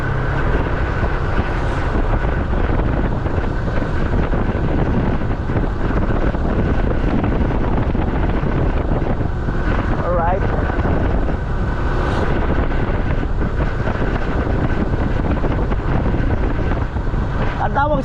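Heavy, constant wind roar buffets the microphone while a motorcycle rides along at a steady pace on a long-distance ride. The engine drone is buried under the rushing wind, and a voice talks over it.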